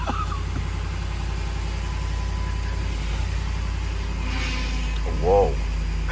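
A Lincoln Navigator V8 runs at a steady, rumbling idle after a cold start in about -11 degree weather, heard close and continuous, with a brief whine or voice-like sound near the end.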